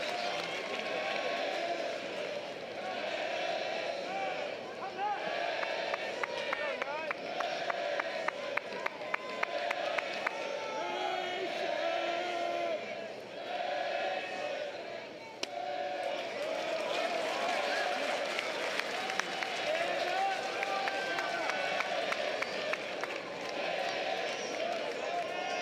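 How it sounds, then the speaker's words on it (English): A college baseball stadium crowd at Grambling versus Texas A&M rises in a broad, distant roar that swells gradually, with scattered claps and cheers under a play-by-play voice talking throughout. "Crowd getting louder."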